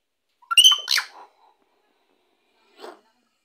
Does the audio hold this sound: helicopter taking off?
no